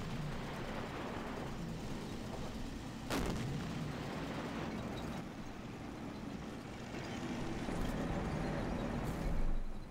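Tank cannon fire in the Men of War: Wüstenkrieg desert strategy game: one sharp shot stands out over a steady rumble of engines and battle noise, with a later burst swelling near the end.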